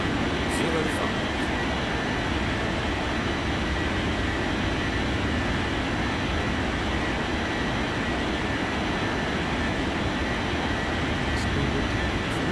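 A jet airliner rolls for takeoff on runway 05 in an air traffic control video game, a steady broad engine roar filling the whole stretch at constant loudness with no breaks.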